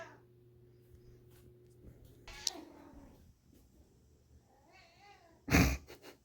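House cats meow for food indoors, a few distinct cries spaced apart with a louder, closer meow near the end, over a quiet room with low background hum.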